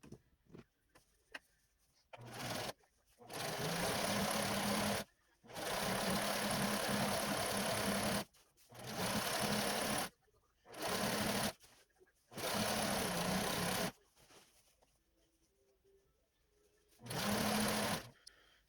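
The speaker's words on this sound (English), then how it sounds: "I'm going to do a back stitch and just go forward all the way down" A sewing machine back stitches along the hood seam of a robe in repeated bursts of rapid whirring, with short and long runs separated by brief pauses. The sound is close and clear, with no talking.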